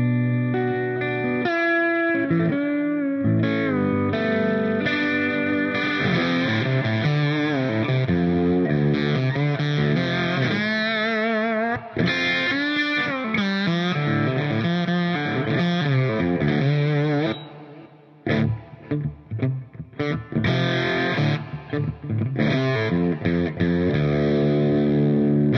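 Acoustic Weissenborn lap steel guitar, fitted with two pickups, played as a long, loud, sustained passage of sliding notes and chords, with a short pause near the end before playing resumes.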